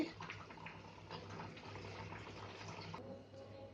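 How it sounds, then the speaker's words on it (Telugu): Quiet, steady splashing of water poured into a pot of cooked lentils for sambar, a faint continuous gurgle that eases slightly near the end. "ఎన్ని కావాలో వాటర్ కూడా పోసుకుందామండి"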